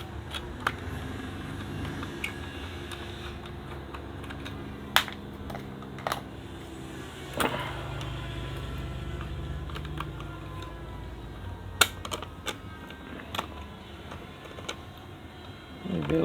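Sparse metallic clicks and ticks of nuts being loosened from a car number plate while fitting an LED light, irregular and close over a steady low background hum, with no talking.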